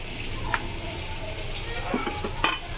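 Nawla fish fries hot in a pan, giving a steady sizzle broken by a few sharp clinks and scrapes, with no clear speech.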